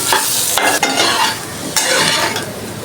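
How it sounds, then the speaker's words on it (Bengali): Potatoes frying in hot oil in a pan while being stirred, heard as a loud, constant sizzle broken by a few sharp scraping strokes of the spatula, close up and without voices. "এখন আলুগুলো একটু ভেজে নেব।"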